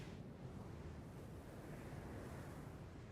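Steady wind roars and rushes without pause in an outdoor video game environment, a dense, even wash of noise with no voices.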